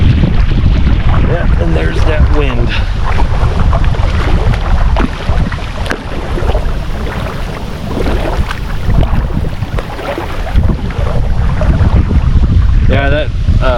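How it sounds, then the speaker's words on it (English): Steady loud wind buffeting the microphone at Lake Maloney in North Platte, Nebraska, a continuous roar with faint voices and lapping water underneath. "there's that wind"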